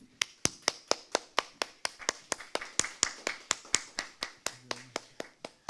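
Clapping from a small audience after a racial justice concert by a band, about twenty evenly spaced crisp claps, fairly quiet, with faint voices underneath.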